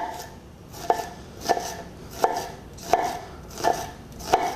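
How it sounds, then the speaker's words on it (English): A knife slices an onion on a board in a kitchen. Six evenly spaced crisp chops with a woody knock land about every 0.7 seconds, close and clear, with no talking. "And we're just gonna slice the onion."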